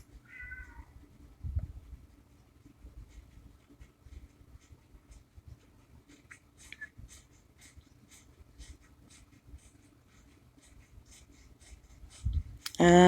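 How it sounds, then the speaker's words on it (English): A house cat meows a few times, faint and fairly distant, in a quiet room where soft scratching of drawing or coloring on paper runs underneath, ending in a louder burst. "And if you can hear, my cat's meowing at me."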